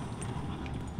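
Horse hooves in Red Dead Redemption 2 clop along steadily on the ground, a continuous soft rumble of footfalls at moderate distance with no talk over them.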